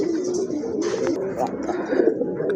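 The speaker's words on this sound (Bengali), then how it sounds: "এখন দেখেন আমাদের দেশীয় কবুতর, দেশীয় রাসগোল্লা কবুতর" Native Rasgolla pigeons coo in low, throaty, rolling calls that run continuously and close by, with faint chirps and some background chatter mixed in.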